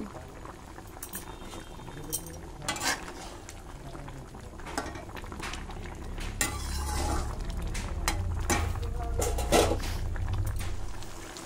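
A pot of prawn malai curry, made with giant freshwater prawns, bubbling at a steady boil, with soft popping and occasional clinks of a spoon against the pot. The bubbling grows fuller and louder toward the end.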